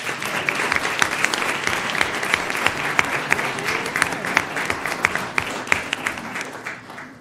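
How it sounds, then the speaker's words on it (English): An audience at an Arizona school district governing board meeting gives a sustained round of applause, many hands clapping densely and evenly before it tapers off at the end. "Let's give them a round of applause."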